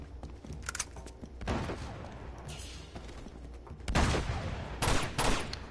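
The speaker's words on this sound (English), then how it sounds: "Sounds like a shotgun." Shotgun blasts and gunfire in the video game Uncharted 2: Among Thieves, a run of loud, broadband bursts fired in clusters, with the heaviest shots near the end.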